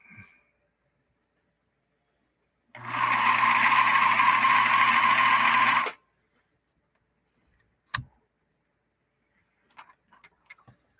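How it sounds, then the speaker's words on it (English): A Bernina Minimatic 707 sewing machine runs a zigzag utility stitch in one steady burst of about three seconds, a close whirring drone that starts and stops abruptly. A clunk and a few faint clicks follow in otherwise quiet surroundings. "We just did some utility stitching with this model 707."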